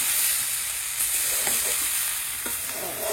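Vegetables fry in a pan in a Bangladeshi village kitchen, a steady dense hiss of sizzling with a few soft stirring scrapes, close and loud throughout.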